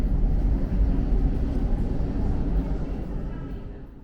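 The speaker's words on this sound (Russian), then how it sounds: "шум от поездов и старых, и новых в Торонто достаточно сильный" A Toronto subway train rumbles loud and continuous underground, a dense low roar that holds steady and then eases slightly toward the end, with no voices over it.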